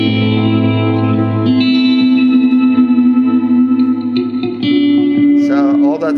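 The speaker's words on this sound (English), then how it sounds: "Blackface Twin Reverb, the bright sound" Electric guitar played through a Line 6 Pod Farm Blackface Twin Reverb amp model, bright and clean with effects, sustained chords ringing out continuously with a few strummed changes near the end, loud and close.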